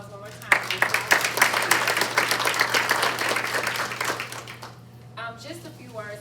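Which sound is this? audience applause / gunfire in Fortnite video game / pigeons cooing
audience applause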